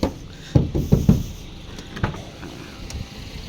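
Engine cover of a Daihatsu Gran Max pickup being opened: a few sharp latch clunks and knocks, a couple of closer thumps, then a lighter click, nearby and alone without talk.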